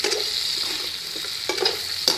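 Green chillies frying in a pan for dahi wali hari mirch, a steady bright sizzle with soft stirring scrapes and a couple of sharper utensil clicks, close and continuous with no talk.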